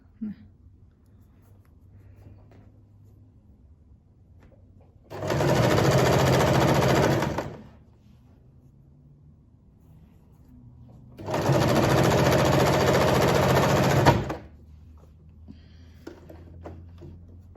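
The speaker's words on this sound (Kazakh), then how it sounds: "Көріп тұрғандарыңыздай 1 сантиметр көлемде тігіп жатырмыз." A sewing machine stitches a decorative pillow in two bursts of steady, rapid motor whirring, each lasting two to three seconds, with a quiet pause between them.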